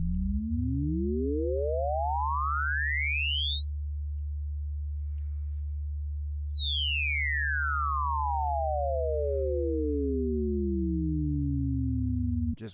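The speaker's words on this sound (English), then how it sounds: "We could sweep the pitch of oscillator 2, for example, and get a ring modulated sound." Reason Subtractor synth with two sine oscillators ring-modulated, one oscillator's pitch swept: a steady low drone under paired tones gliding up to a piercing peak and back down, electronic and continuous, ending abruptly.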